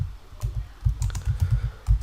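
Quick keystrokes clatter on a computer keyboard in short uneven bursts, close and clear, with no voices.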